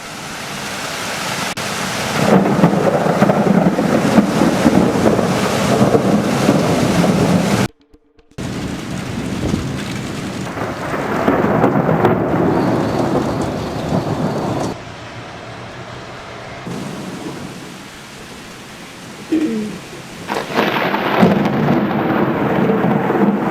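A thunderstorm with lightning, heavy rumbling thunder rolling in long loud waves over a constant hiss of rain, broken by a short silent gap and later sharper cracks, no voices.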